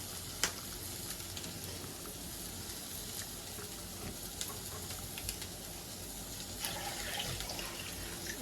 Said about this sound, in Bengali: এবার আমি এক এক করে মাছগুলো দিয়ে দেবো।